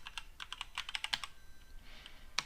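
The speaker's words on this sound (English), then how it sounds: "I'm going to type cd space documents." Short command typed on a computer keyboard: a quick run of crisp, close key clicks in uneven rhythm, a brief pause, then one last sharper tap, with no talking.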